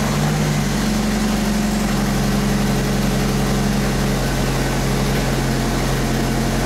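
A Jeep engine already running at a steady idle, a continuous loud broadband rumble with a low droning hum, no pauses or voices.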